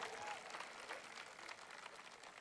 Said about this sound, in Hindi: राम भदावर के लिए जोरदार तालियां बजाएं।